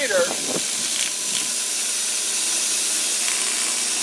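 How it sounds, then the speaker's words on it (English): A belt sander notching the middles of knife handle scales, heard as a steady loud grinding hiss throughout after a brief knock and whine at the start, with a voice speaking over it. "I want to kind of notch the middles with this belt sander"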